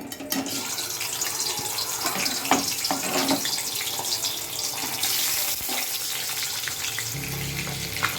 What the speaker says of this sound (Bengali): হয়ে গেছে তেল গরম, মাছ দিয়ে দেবো।